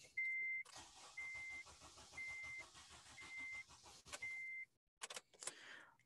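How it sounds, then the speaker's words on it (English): A car engine cranks on its starter motor during a starter voltage drop test, with rapid rhythmic chugging under repeated meter beeps, then it stops and brief clicks and handling noises follow. "And then just while the engine's cranking,"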